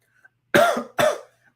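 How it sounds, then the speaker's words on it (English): Two harsh coughs in quick succession, close and fairly loud against near silence. "please excuse me if I be coughing throughout the night"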